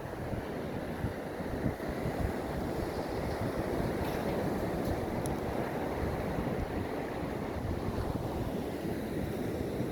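Ocean surf at Bryan Beach, a steady, broad wash of breaking waves with wind buffeting the microphone throughout, fairly quiet and without talking.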